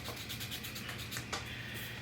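A worn nail file rubs an extension cord wire clean, a quiet, steady scratchy scraping in quick repeated strokes, heard close and alone.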